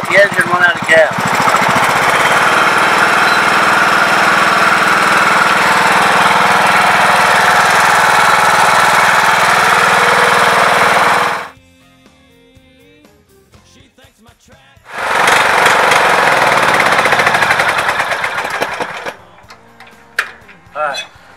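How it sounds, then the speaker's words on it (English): Lawn mower engine held running until it runs out of gas: a loud, steady close-up drone that cuts out abruptly, falls quiet for a few seconds, then roars back briefly before sputtering and dying away. "Now we're going to wait and let the engine run out of gas."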